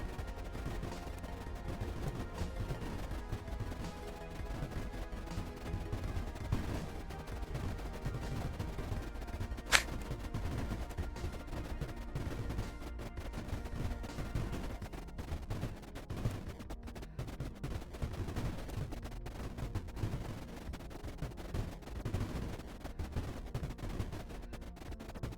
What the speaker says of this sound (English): Your cannon still works.